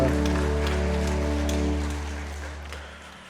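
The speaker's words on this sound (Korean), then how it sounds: "하나님 앞에 영광의 박수 올려드립니다." A congregation at a Korean church's Sunday worship service gives a round of applause. A dense patter of clapping sits under a sustained held chord and gradually fades toward the end.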